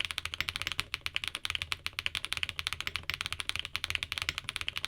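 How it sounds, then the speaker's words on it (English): Rapid, steady typing up close on a mechanical keyboard with tactile switches, each keystroke a crisp, bright, metallic clack in a continuous rhythm with no voices. "With each keystroke, you get a bright and sharp metallic sound"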